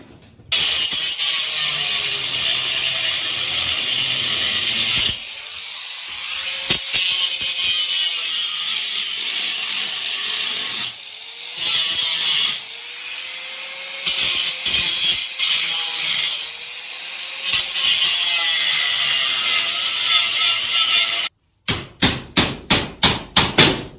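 Power grinding and chisel work cutting material out on a dirty job, a loud continuous whining grind broken by short pauses and knocks, ending in a run of sharp rhythmic chisel or hammer strikes.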